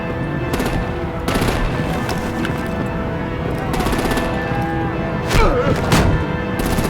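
Rapid machine-gun bursts and heavier thumping blasts of artillery from a Batman: The Enemy Within game battle, rattling in repeated volleys over a dense, noisy backdrop with no voices.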